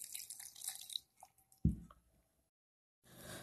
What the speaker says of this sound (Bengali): সামান্য জল দিলাম